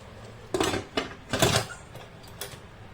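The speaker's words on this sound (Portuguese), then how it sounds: "Fechei a panela e coloquei na posição de pressão." Pressure cooker lid closed and locked into the pressure position over chicken cooking in its own juices with onion and bell pepper: a few sharp metallic clanks and scrapes in quick succession, close and moderately loud, with no talking.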